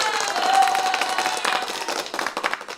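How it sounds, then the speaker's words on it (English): Applause and clapping from an audience at a live talk, a dense patter of hands filling the whole short stretch at a steady moderate level. "Let me give another applause right here."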